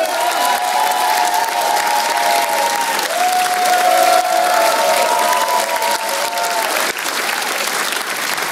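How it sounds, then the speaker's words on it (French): A studio audience at an evening Paris entertainment show bursts into loud, sustained applause with some cheering, while tonal music plays underneath. "Je vous demande de faire un tonnerre d'applaudissements pour mademoiselle Clara Morgan"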